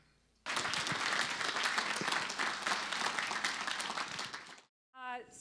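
Sustained applause from a rally audience for a 2020 presidential candidate in Colorado, loud and dense for about four seconds, then stopping abruptly before a brief burst of speech.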